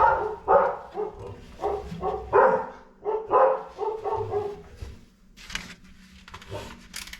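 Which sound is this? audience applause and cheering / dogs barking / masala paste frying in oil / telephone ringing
dogs barking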